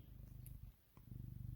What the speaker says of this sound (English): I'm sorry if you can hear my cat purring.